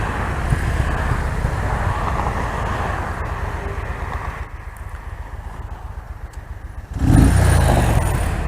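A loud Yamaha motorcycle engine roars steadily with road noise, dipping briefly before surging louder again near the end.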